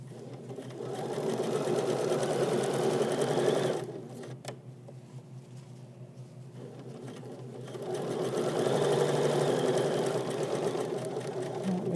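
A Bernina travel sewing machine runs in steady bursts, stitching a seam on cropped jeans with a smooth, even whir, pausing briefly in the middle before resuming at full speed.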